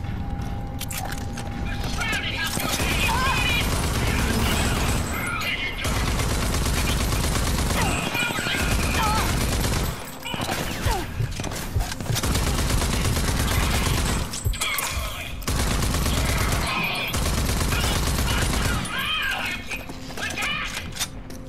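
Enemies fire guns in RAGE 2 amid a dense, loud wash of game noise, with bursts of shots, clattering mechanical sounds and a voice talking over the din.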